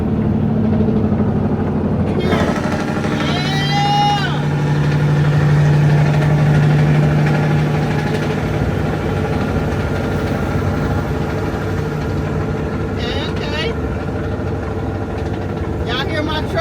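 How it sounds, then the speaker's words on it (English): A semi truck's diesel engine idles at a truck stop, a steady close low rumble running throughout, with someone talking over it and a brief tonal hum partway through. "Y'all hear my truck?"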